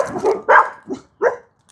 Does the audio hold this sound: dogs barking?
yes